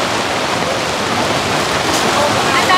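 Heavy rain blowing in under the edge of a tent during a storm, a dense steady hiss of pouring water that stays loud and unbroken throughout, with no clear words.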